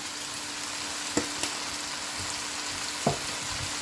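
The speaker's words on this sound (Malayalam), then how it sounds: "ഈ സമയത്ത് ഒന്ന് പൊടികളെല്ലാം നന്നായിട്ട് ഇളക്കി യോജിച്ച്" Spices and fennel seeds fry in a pan for a Kerala-style pork roast, with a constant sizzle and a few distinct scrapes and taps as they are stirred.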